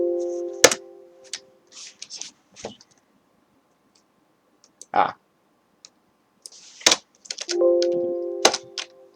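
Computer keys are pressed in scattered sharp clicks and short clattering bursts, near and fairly loud, with quiet gaps between them and faint room sound.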